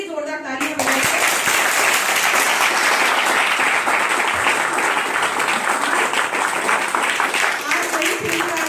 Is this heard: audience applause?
yes